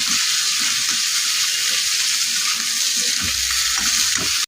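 Chopped onion frying in a pan for a Bengali snake gourd chorchori, giving a steady, loud, close sizzle that runs on without a break, with faint stirring scrapes underneath.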